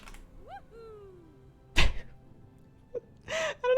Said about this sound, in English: I was trying to make my cheer sound happen